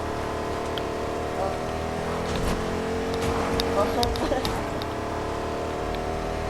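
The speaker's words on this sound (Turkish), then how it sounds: "oğlum arabanın sesi çok fazla." A steady car engine drone from the video game Fortnite runs throughout, with scattered clicks and effects layered on top.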